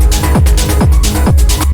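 Choppy, gated synth stabs in a techno mix, pulsing in a steady rhythm over a deep, full-bodied low end, loud and dense with no voices, cutting off sharply at the end.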